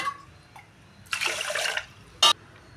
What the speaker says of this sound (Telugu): ఇప్పుడు దీనికి ఒక గ్లాసుకి గాను రెండు గ్లాసులు వాటర్ పోసేసుకుంటాం